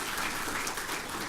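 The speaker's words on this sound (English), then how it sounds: "and Ariel clapping here." Brief audience clapping at a sustainable development congress, a short wash of dense applause heard faintly and evenly with no speech over it.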